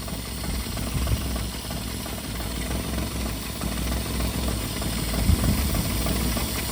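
A 1955 International R160 dump truck engine idles steadily with the choke open, a low, even rumble close to the microphone with occasional small knocks, and no talking over it.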